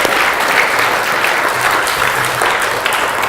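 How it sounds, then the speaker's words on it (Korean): A church congregation at a discipleship-training graduation service claps in encouragement, a loud, full and sustained round of applause filling the room with no speech above it. "다시 한번 격려로 박수하겠습니다"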